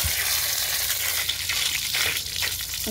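Taro (kochu) dug from the jungle being washed in water, with steady sloshing and swishing splashes close by, a continuous wet rushing texture with no talking.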